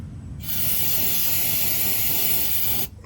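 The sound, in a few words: spraying brake cleaner on truck oil drain hole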